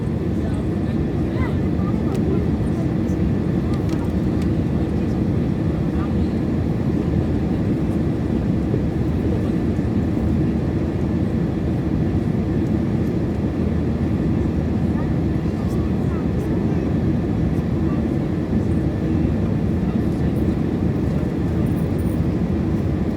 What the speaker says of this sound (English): aircraft circling and landing